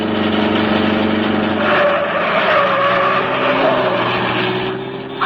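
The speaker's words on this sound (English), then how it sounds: "Drive right past them, Cato." A radio-drama sound effect of a car speeding past, with a loud sustained engine roar and long screeching tire skids that swell and fade.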